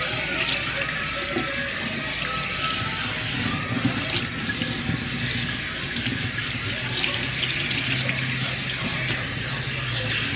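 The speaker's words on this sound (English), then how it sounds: "now I'm just going to go ahead and rinse this off." Tap water runs steadily over a freshly cleaned pan being rinsed in a sink, a close, continuous splashing rush with no voices.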